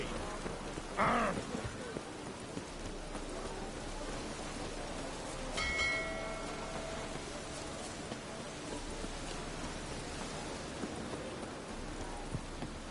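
Steady, dense rain pours down in The Witcher 3, a constant wash of falling water with a brief grunting voice early on and a faint tonal sound midway.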